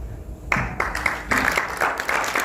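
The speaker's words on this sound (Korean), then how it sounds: "큰 박수 부탁드리겠습니다." Audience applause at a Pen&Mike conservative speech contest award ceremony, starting abruptly and holding as a dense, steady wash of many hands clapping at moderate volume, with no talk over it.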